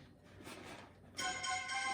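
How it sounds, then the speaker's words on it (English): A mobile phone ringtone starts partway through in a kitchen during breakfast burrito prep, a bright repeating electronic melody that rings out clearly and fairly loud after a quieter stretch of background noise. "There's my phone."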